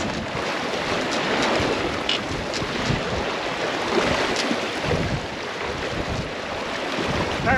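Steady, loud rush of wind and water with breaking waves while sailing, continuous broadband noise and occasional gusts buffeting the microphone.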